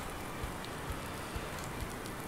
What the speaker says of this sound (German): Das ist der erste Regen nach langer Zeit.